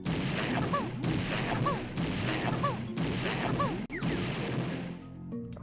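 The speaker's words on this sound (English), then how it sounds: "Let's shoot the big fish." Shots are fired at a big fish in the Nintendo 64 game Banjo-Tooie: five loud, punchy blasts at a steady pace about a second apart, each followed by a short rattling tail.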